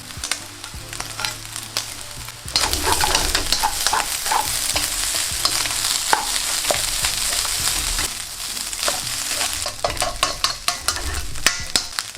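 Cooked rice tossed into a hot pan for smoking hot chicken manchurian, a loud continuous sizzle with scraping stir strokes, starting from a quieter hiss and rising sharply into a busy, close frying roar.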